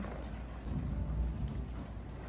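Low thunder rumbles steadily through an active thunderstorm, a soft, distant roll with a slight swell in the middle and rain-like hiss above it.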